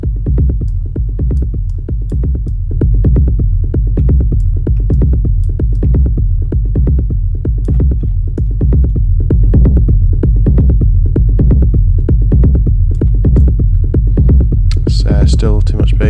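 Heavy techno bass from a track played back in Ableton thumps in a steady, loud, regular pulse throughout, with a brief bright burst near the end.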